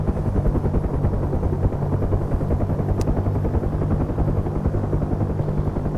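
A helicopter flies at low level, its rotor thumping in a dense, steady, loud drone that runs unbroken and close throughout, with no voices over it.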